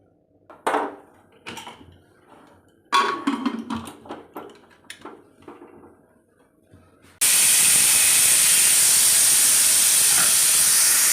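A pressure cooker holding water and horse gram sits on a gas stove; a few scattered clinks and knocks come first, then a sudden, loud, sustained hissing whistle of steam blasts steadily to the end.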